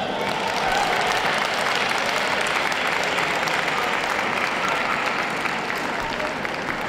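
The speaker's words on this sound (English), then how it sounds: "Big round of applause, ladies and gentlemen," An audience at a Manchester dog show applauds the utility group shortlist, a loud, steady, unbroken wash of many hands clapping in a large indoor hall.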